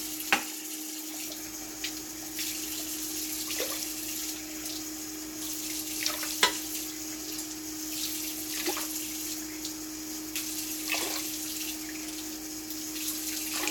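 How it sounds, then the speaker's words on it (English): Tap water running steadily into a pot being filled for pasta in a home kitchen, a continuous close hiss and splash with faint clinks, no talk. "I'm going to go ahead and add my water and stuff."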